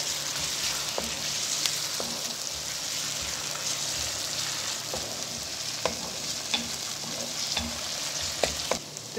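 Ginger garlic paste frying in a pan for a chana dal and karela dish gives a steady, close sizzle, broken by occasional light clicks and scrapes of a spoon stirring it.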